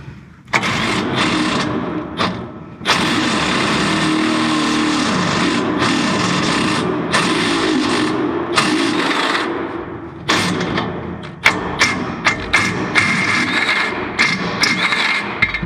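A power drill bores into metal while installing SPod Source LT and LP6 Pro LED lights, with a long whining run followed by a series of short, stuttering bursts that start and stop up close.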